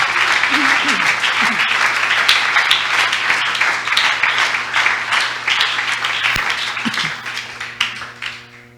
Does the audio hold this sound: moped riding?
no